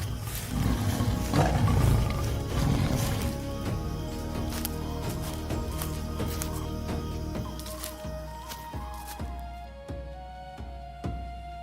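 A leopard roars as it lunges at an impala on open African terrain in Zimbabwe, a loud, dense rumbling burst early on that fades into lighter rustling scuffs and a few sharp knocks toward the end, with no voices.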